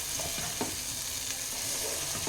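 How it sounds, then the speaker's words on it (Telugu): Stuffed brinjals fry in a masala of spices and oil, a close, continuous sizzle broken by a few soft stirring scrapes, with no voices. "ఆల్మోస్ట్ హాఫ్ వరకు రోస్ట్ అయ్యాయి వంకాయలు."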